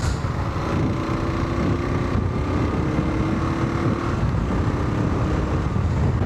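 Kawasaki KLR 650 single-cylinder engine droning steadily while riding in fifth gear at modest revs, with a constant low rumble and heavy wind buffeting throughout.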